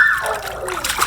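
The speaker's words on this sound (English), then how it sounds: "Splashing Lincoln. He loves to splash." A child makes a quick splash in pool water with a bit of dripping, close by, over about a second.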